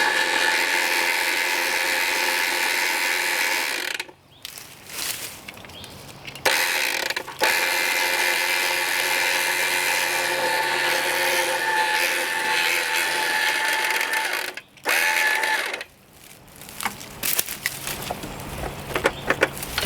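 A utility winch strains steadily to pull a shed, a loud continuous mechanical whine and grinding broken by a few short pauses and some clanks near the end.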